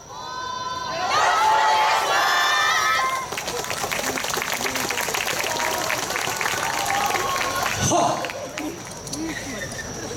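A crowd at a yosakoi dance festival stage in Harajuku claps along and cheers, loud at first, then a steady rhythmic clapping with shouts continuing underneath; no clear talk.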